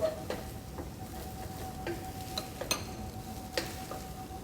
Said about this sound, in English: he is going to stir it well